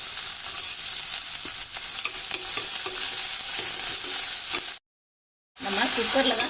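Constant hiss and sizzle of chopped large onions frying in hot oil after fennel seeds, with occasional stirring scrapes, then a brief cut to silence before the sizzling resumes.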